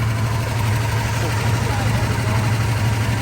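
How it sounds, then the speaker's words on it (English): A Plymouth Cuda with a six-pack carburetor setup and quiet mufflers idles steadily nearby, a low, even rumble that holds throughout without revving. "See, it idled down a little bit, didn't it? Nice and quiet too."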